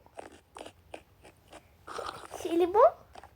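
A child chews crunchy food at a family holiday meal, producing a rapid series of crisp, close crunches and bites. Voices speak nearby between and over the chewing.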